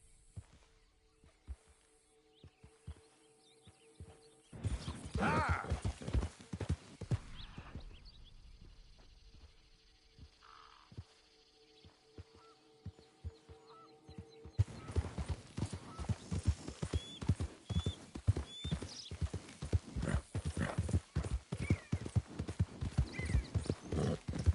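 Horse hooves clip-clopping at a gallop in the Red Dead video game, with a brief whinny; loud rapid hoofbeats come in bursts and build toward the end, with a quieter stretch in the middle and occasional voice.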